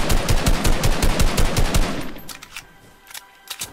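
Rapid automatic gunfire in the Fortnite video game, a loud burst of evenly spaced shots that stops abruptly, followed by a few scattered distant shots.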